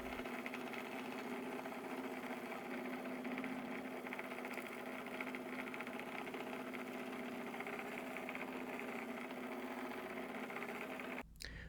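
A polisher fitted with a 400 grit diamond disc runs on stone, making a steady mid-pitched motor whine with an even grinding hum that holds constant and near, then cuts off abruptly at the very end.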